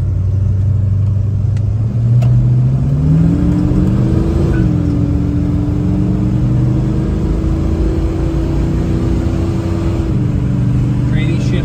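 A 1970 Plymouth Road Runner's engine pulls steadily as the car drives, its pitch rising through a smooth gear shift, a loud continuous drone heard from inside the cabin.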